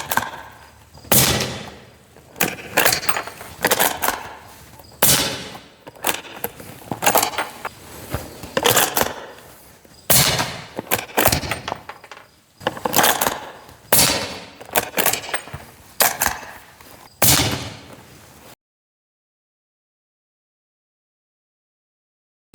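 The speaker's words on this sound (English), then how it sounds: "the Ruger American 300 blackout now suppressed with 220 grain subsonics" A suppressed Ruger American rifle in 300 Blackout fires 220-grain subsonic rounds, a dozen or so sharp muffled cracks spaced a second or two apart, each with a short decaying tail, followed by silence.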